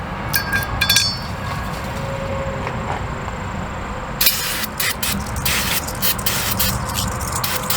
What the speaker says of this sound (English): I'll spray them out with some brake cleaner